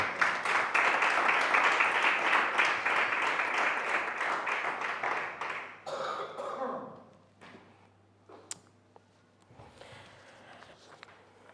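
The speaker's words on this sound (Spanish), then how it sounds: "Dale un fuerte aplauso a Cristo Jesús" Congregation applauding during a church service, dense loud clapping for about six seconds that then breaks off into scattered claps, shuffling and quiet room sounds.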